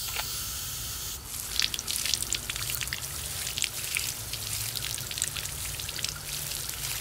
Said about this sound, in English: I can feel the water splashing on my foot.